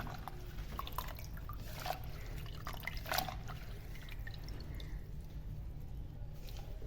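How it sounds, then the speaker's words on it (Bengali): Water draining off freshly washed neem leaf stalks, heard as faint, scattered drips and light trickles over a low steady background, quiet and close. "প্রথমে ধুয়ে নেবো, তারপর পানিটা ঝরিয়ে নেবো।"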